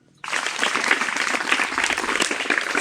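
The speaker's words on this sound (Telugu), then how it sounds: "క్లాప్స్ కొట్టండి" A group of schoolchildren in a village breaks into sudden, sustained applause, many hands clapping close together in a dense, even burst that starts abruptly and holds steady.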